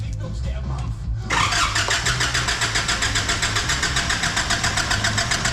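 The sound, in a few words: Nissan Patrol diesel engine starting with new injectors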